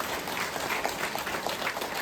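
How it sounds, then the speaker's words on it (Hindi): Audience applause during an RCM motivational speech in Ayodhya, a steady dense wash of many hands clapping at moderate distance, even and unbroken for its full length with no voices over it. "ताली बजाइए"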